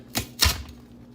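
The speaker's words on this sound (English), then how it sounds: "I'm gonna go ahead and cut it with my cutter" A cutter rolls through a 16-inch homemade pizza cut into six slices, two short crisp crunching strokes close by, then quiet.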